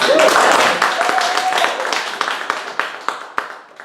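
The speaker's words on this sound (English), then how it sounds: "let's give her a round of applause" An audience at a training session breaks into applause that starts dense and loud, then thins into scattered individual claps as it fades.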